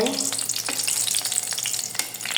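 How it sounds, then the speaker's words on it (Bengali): Oil drizzled over an egg and chicken Mughlai paratha frying in a pan sets off a loud, close sizzle, with crackling bursts and a few sharp pops and scrapes over steady frying hiss. "আমি এই পাশ থেকে একটু তেল উপরে দিব"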